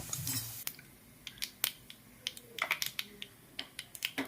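Mustard seeds and cumin spluttering in hot oil, an uneven series of small sharp pops and crackles, fairly faint, with a brief louder sizzle at the start.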